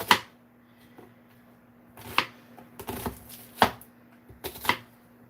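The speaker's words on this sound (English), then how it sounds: "So now we finished cutting the onion" Knife chopping an onion into large pieces on a board, a few sharp, irregular knocks separated by pauses, close and fairly quiet in an otherwise still kitchen.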